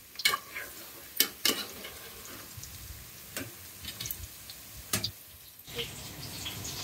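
Chicken fries in oil with onions, green chillies and curry leaves, a continuous crackling sizzle broken by sharp clanks and scrapes of stirring at irregular moments.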